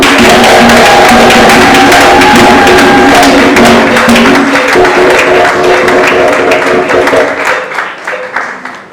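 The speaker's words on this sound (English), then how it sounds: "With a round of applause, let's welcome to stage Mrs. Kate Hassan." An audience at a food tourism event claps to welcome a speaker on stage: loud, dense applause that holds steady for several seconds and then thins and fades at the end.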